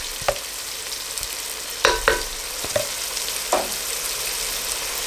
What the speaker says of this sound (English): the masala is frying up well